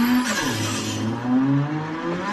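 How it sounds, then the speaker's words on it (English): A car engine in a drift racing sim video game revs loudly and close, its pitch sweeping up and down through several throttle blips and gear changes across a couple of seconds. "Revving."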